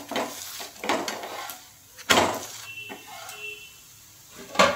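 A potato paratha is being fried in a pan, with utensil clatter and scraping in a few sharp bursts over a low background sizzle.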